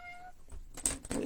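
A brief, quiet cat meow, then scraping and rustling handling noises up close.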